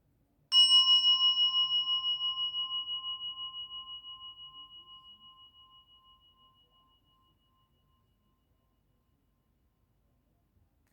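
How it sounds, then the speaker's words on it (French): A single meditation bell is struck once, its clear pure tone ringing out and slowly pulsing as it fades over about six seconds into silence. "on va écouter le son de la cloche qui va"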